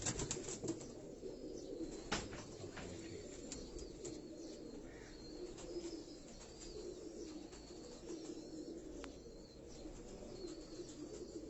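Meerut Gola pigeons, a fancy breed kept by a Karachi fancier, coo softly and flap their wings in a continuous, busy murmur of birds throughout, with a sharp wing clap or two standing out.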